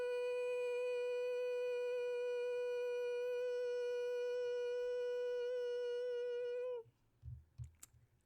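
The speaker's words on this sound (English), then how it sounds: "Let's try and do a hum in a higher tone for the pineal gland now." A person hums one steady, higher-pitched tone, clear and rich in overtones, held for nearly seven seconds before stopping abruptly, followed by brief faint rustling.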